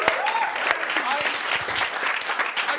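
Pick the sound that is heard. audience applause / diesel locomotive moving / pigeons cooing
audience applause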